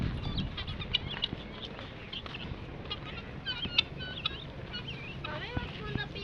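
Free-ranging bengala chickens on a farm cluck and chirp in scattered short calls over a low background rumble, fairly close and moderately loud.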